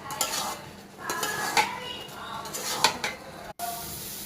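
Carrot halwa is fried and stirred in a wok, with a spatula scraping and clinking against the metal in repeated strokes over a soft sizzle and no talking.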